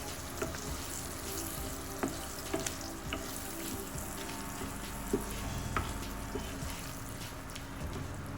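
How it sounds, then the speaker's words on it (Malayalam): Masala spice powders are stirred in a pan for lemon rice, giving a soft, low-level frying hiss with scattered light taps and scrapes from the stirring, fairly quiet and with no voices. "ഇനി നമുക്ക് നമ്മുടെ ഇട്ട് കൊടുത്തിരിക്കുന്ന മസാലപ്പൊടികളൊക്കെ ഒന്ന് നന്നായിട്ട് മിക്സ് ചെയ്ത് കൊടുക്കാം"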